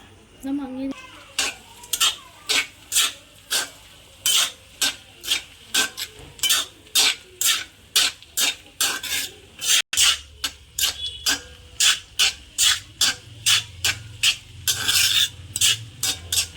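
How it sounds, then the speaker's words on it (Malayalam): Tapioca and clam meat are stirred in a pan with a spoon, producing a long series of regular scraping strokes over a faint sizzle, close and clear. "ഇനി എല്ലാം നന്നായിട്ട് നമുക്ക് ഇളക്കി കൊടുക്കാം"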